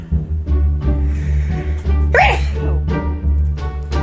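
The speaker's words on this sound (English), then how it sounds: "I have the worst sneezes. They're so loud and they hurt my chest." A single loud, sharp sneeze bursts out midway, standing out against a steady low hum and background voice.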